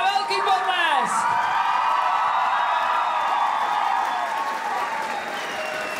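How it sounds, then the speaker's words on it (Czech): Loud applause, whoops and cheering from a school ball crowd after a disco-themed student dance performance at a Česká Lípa gymnasium, a dense sustained roar with shrill shouts, gradually easing off. "velký potlesk!"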